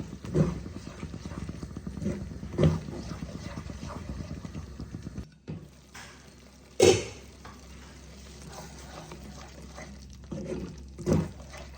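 Bengali masala for doi katla fish curry is stirred and fried down after the grinding jar's rinse water goes in, giving a wet bubbling sizzle with a few scraping knocks of the spoon and a short pause partway through.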